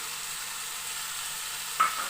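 Ginger-garlic paste and goat mutton sizzle together in a pan on a medium gas flame, a steady close frying hiss with one soft knock near the end and no speech.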